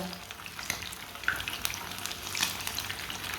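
Chicken frying in oil in a pan, oil spooned over the top: a steady, moderately quiet sizzle with faint crackles and a couple of brief scrape or clink accents, no talking.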